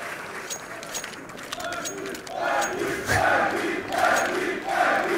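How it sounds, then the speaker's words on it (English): A large live crowd at a DreamHack Open Tours 2018 Counter-Strike match on Mirage roars and chants in rising surges, dense and loud, with a commentator talking over it. "You can hear the crowd, you can hear the alley coming out."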